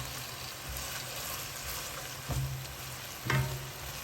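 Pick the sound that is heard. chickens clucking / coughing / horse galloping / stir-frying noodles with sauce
stir-frying noodles with sauce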